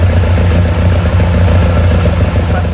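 A Lotus Twin Cam engine runs steadily after distributor timing and carburettor tuning, a loud, continuous low idle-like drone with an even rumble throughout and no talk.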